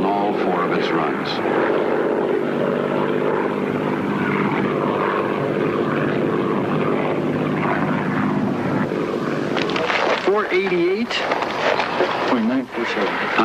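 The RB-51 Red Baron racing plane, fitted with a new engine, flies on a 1979 world air speed record attempt, its propeller engine droning steadily with pitch shifts as it passes, and a commentator talks over it.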